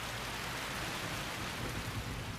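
Heavy monsoon rain falls steadily in Kaziranga, India, a dense and even hiss of downpour across the whole moment, with no voices or other distinct sounds.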